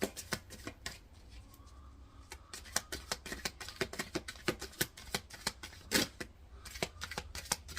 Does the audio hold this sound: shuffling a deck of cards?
yes